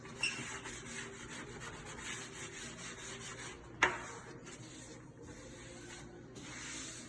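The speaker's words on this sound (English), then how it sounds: "just rub it over, especially the edges, curl those" A hand rubs over the edges of freshly applied LG BENIF x Tekton performance protective film, making faint, close, scratchy swishing strokes with one sharper tap partway through.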